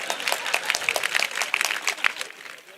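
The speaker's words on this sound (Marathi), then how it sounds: "आजीसाठी एकदा जोरदार टाळ्या वाजवा." Audience applause for an elderly woman at a Babasaheb Ambedkar Jayanti motivational speech event, moderate scattered clapping running steadily for a few seconds, fairly close and unaccompanied by talk.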